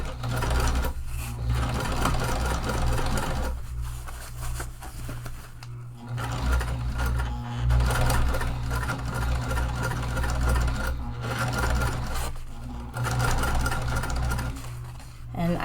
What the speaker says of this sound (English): I am just going to start sewing